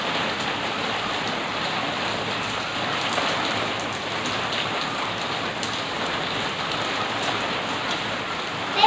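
Heavy rain pours steadily at the start of a downpour in Nowshera, a dense, even hiss of drops hitting surfaces that holds without a break from start to finish.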